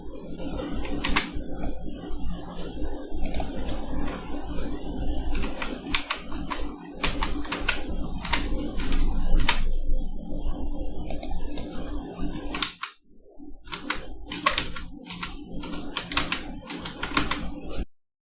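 Keystrokes on a keyboard while entering a complaint shipping address, close and crisp clusters of taps with short pauses and a brief gap near the end, over low background hum.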